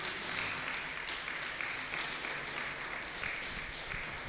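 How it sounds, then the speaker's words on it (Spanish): A congregation applauds during a church sermon, with continuous faint clapping from a crowd, even and steady throughout the short stretch. "Dele a Dios ese aplauso"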